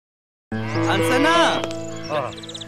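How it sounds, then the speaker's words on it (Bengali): A cow lets out one long, loud, close moo after a short silence, and the call trails off into a softer groan. "আনসানা মামুনি তোমার গরু একটু আদর করে দাও তো"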